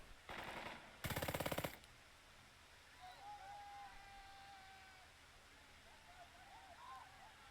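Automatic machine-gun fire in the tactical war game Burden of Command, two loud rapid bursts in the opening seconds followed by a quieter battlefield bed of distant crackle and faint whistling.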